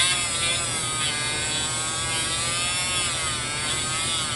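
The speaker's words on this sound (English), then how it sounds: "Just basically running it the full length of the bit up and down the feed ramp, and it's polishing up real nice." A rotary tool bit runs along the stainless steel feed ramp of a Kel-Tec SUB-2000, polishing it with a steady high-pitched whine and a buzzing grind, close and continuous with no pauses.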